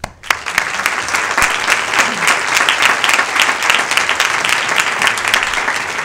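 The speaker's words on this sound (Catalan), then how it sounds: "us demanaria que a mi li doneu les gràcies a aquest panell i amb un aplaudiment" Loud, sustained applause from a large audience at an academic conference on social sciences and humanities, dense steady clapping filling the whole stretch without pause.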